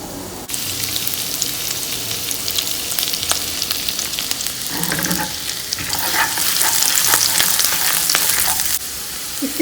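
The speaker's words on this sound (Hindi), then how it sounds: "मैं उनको सौते करूँगी" Ginger, garlic and green chillies sauté in hot oil in a pan, giving a continuous, close sizzle with occasional stirring scrapes that grows a little louder toward the end.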